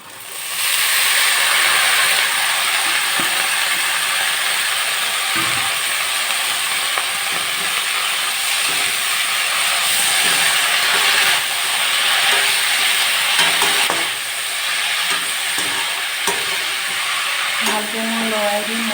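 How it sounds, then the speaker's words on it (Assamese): Pieces of pumpkin go into spices frying in a pan for a fish curry, giving a loud, steady hiss and sizzle that carries on for a long stretch, with occasional knocks and stirring noises. "সেয়া মোৰ মছলাখিনি ভাজ খাইছে আৰু এতিয়া মই ইয়াত ৰঙালাও পোখাখিনি দি দিম"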